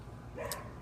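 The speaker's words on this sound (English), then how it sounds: "That dog likes to bark at me a lot." A single short dog bark rings out at close range over steady low background hum, one brief burst near the middle of the moment.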